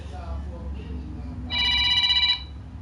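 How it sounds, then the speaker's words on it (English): A telephone rings with a bright, steady electronic trill for about a second, loud and close over a low background hum, with no speech during the ring. "And I get a phone call."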